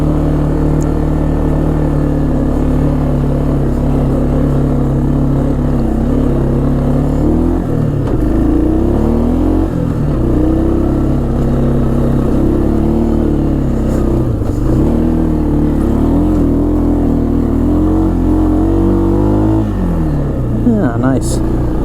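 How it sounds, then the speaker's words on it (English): A 1996 Arctic Cat Bearcat 454 4x4 snowmobile engine drones steadily and revs up and down several times at about 10 mph, loud and close, with voices talking over it. "you can hear it revving up a little bit"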